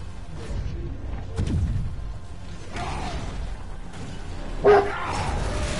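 A dog barks loudly inside a room: a few separate sharp barks, with the strongest, closest one near the end and quieter room noise between them.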